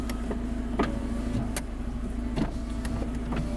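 Electric windows run inside a Campovolo Grey Abarth 595, a low steady motor hum broken by a few short clicks and thumps, close by and with no talking.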